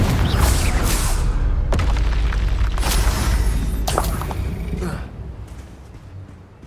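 A Confringo fire spell bursts with a heavy boom in the Hogwarts Legacy video game, loud, deep and rumbling, followed by crackling debris and a few more blasts that fade out.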